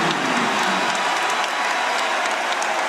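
A packed arena crowd at an Auburn college basketball game against USC, applauding and cheering in a steady, loud, continuous roar with no break.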